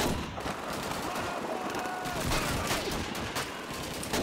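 Dense gunfire in Call of Duty 2, rapid overlapping shots forming a continuous loud fusillade throughout, close and unbroken.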